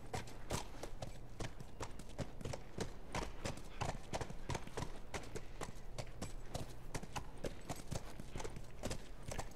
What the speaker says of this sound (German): Warum reitet ihr eigentlich mit dem Pferd da rein?